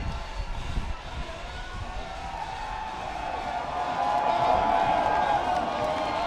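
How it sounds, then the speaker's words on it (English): A large outdoor crowd at the San Francisco Pride parade roars and cheers in a continuous, distant wash that swells louder toward the end, with faint talk mixed in. "Every time I hear a cheer like that, I don't know what's happening next."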